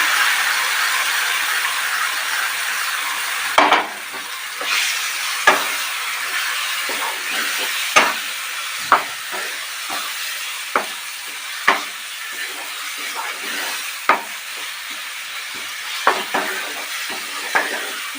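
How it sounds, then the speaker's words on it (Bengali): Mashed eggplant and tomato paste fries in a pan under a steady, loud sizzle, punctuated by regular sharp taps and knocks of a spatula stirring against the pan. "আমি বেগুন আর টমেটো সেদ্ধ করে যে মেখে রেখেছিলাম সেই পেস্টটা দিয়ে দিচ্ছি।"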